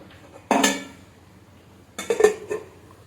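A metal lid clanks onto a cooking pot in a home kitchen, one sharp clatter followed by a second rattling set of clinks as it settles, close and loud with quiet between.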